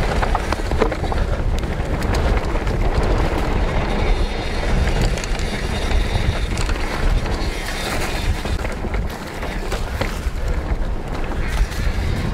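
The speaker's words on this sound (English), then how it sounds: "we've got a full on headwind." Strong headwind buffets the microphone on a hillside walk toward Embsay Crag, a constant loud roaring rumble throughout with no break.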